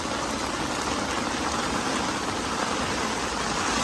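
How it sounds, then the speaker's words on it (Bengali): Hailstones falling on a garden during a sudden hailstorm produce a dense, steady patter of hard impacts. The noise fills the whole clip evenly, close and moderately loud, with no voices. "এই জায়গায় সাদা সাদা শিলাবৃষ্টি হচ্ছে পাথর পড়তেছে"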